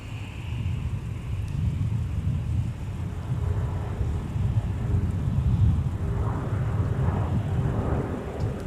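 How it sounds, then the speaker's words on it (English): A SkyWest CRJ regional jet in house livery taking off from runway 30 right at MSP airport, a steady broad engine roar heard from a distance with a rising whine near the end. "got a house livery CRJ departure. Taking off on runway 30 right for Sky West."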